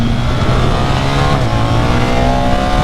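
A 2024 BMW R 1300 GS touring motorcycle accelerates hard, its engine note climbing steadily in pitch, briefly dropping with a gear change midway, then rising again, loud and close throughout.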